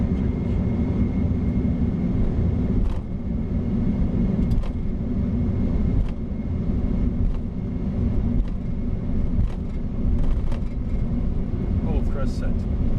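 Corsair Boeing 747-400 jet engines at takeoff thrust, heard from the cockpit as a heavy, steady rumble and roar with faint rattles, while pilots talk over it.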